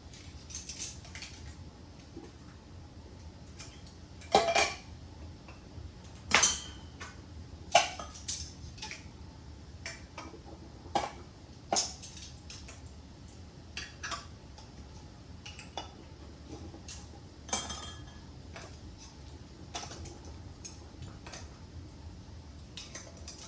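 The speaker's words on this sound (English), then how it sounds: "So we're going to go ahead and put our lids and our rings on all of our jars." Metal lids and rings are placed onto glass canning jars filled with spicy banana peppers, giving scattered sharp clinks and taps at irregular intervals over a quiet background.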